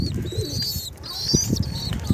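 Pigeons, including homing pigeons, coo in low repeated bursts near the listener, with bright bird chirps and whistles above them in a small loft setting.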